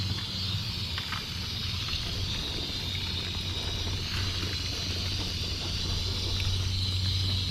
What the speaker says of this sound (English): I'll use this hose to just kind of gently rinse this out.